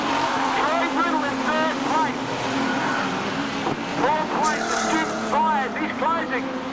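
Modified production race cars at Charlton Raceway, with engines droning and revving through gear changes under continuous loud commentary from a race announcer.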